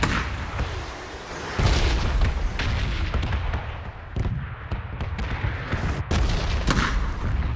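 Close, heavy gunfire in PUBG aimed at a door, with repeated booming shots and cracks over a continuous loud rumble of game noise.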